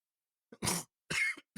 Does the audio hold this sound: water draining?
no